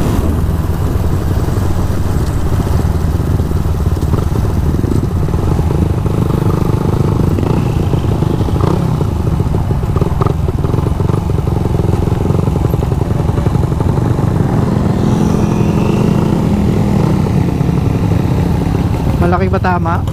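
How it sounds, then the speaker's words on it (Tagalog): A damaged motorcycle engine runs steadily and loudly up close, with people talking over it throughout. "Yung motor ni Darwin dumudulo."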